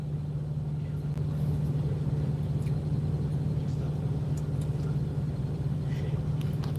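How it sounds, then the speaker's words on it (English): A truck engine runs while driving, giving a steady low drone with constant road rumble that holds at an even level throughout, with no talking. "Truck's been running great."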